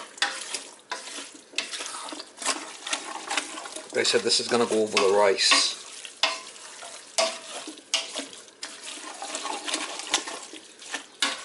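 Stirring and sizzling zucchini and summer squash in a pan, with bursts of bubbling liquid midway, under steady talking.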